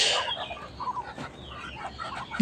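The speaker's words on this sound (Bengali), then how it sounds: "এইগুলো আমার চিনা হাঁস" Chinese ducks on a farm making short, scattered clucking calls at moderate distance, a few quick bursts with quieter gaps between.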